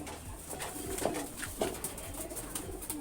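Soft, low pigeon cooing, a few gentle coos repeated close by against quiet background noise.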